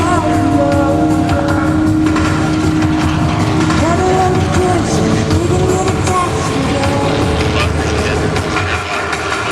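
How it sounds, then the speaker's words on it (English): A smooth-running airplane engine at the Gathering of Eagles airshow, 2013, drones steadily and loudly for several seconds, a dense continuous rumble with a faint tonal hum. "That's a very smooth running engine, isn't it?"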